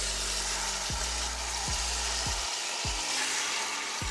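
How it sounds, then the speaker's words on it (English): Chuck roast sautéing in hot oil inside an Instant Pot, a loud continuous sizzle up close with a string of low knocks and scrapes at roughly regular intervals, no voices. "we're gonna add the chuck roast on one side and saute it for about 5 minutes"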